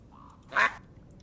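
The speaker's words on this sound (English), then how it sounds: "Like, you can see I have little duckies here. You can pet the ducks." A duck in the video game Tiny Glade gives a single short, fairly loud quack when petted, with quiet background ambience around it.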